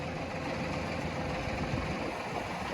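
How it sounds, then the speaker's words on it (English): A tractor engine runs steadily at close range while pushing posts into the ground, a continuous loud low rumble with no breaks over the short stretch. "We use the tractor."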